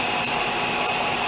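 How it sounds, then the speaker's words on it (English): A turbine-style vacuum pump whines steadily with a loud, high-pitched rushing hum, constant and unbroken throughout with no speech. "This is a vacuum pump."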